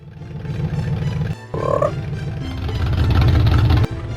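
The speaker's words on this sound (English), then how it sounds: "That frog almost got squished." A frog croaks in the video game Alone in the Dark, a loud, deep, throaty croaking repeated over a steady low rumble of game ambience, with no talk over it.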